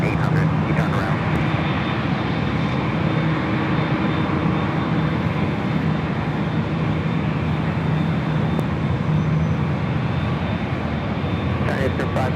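A Delta heavy airliner lands on runway 24 right at Los Angeles airport, making a loud, steady engine roar that fills the whole stretch without fading.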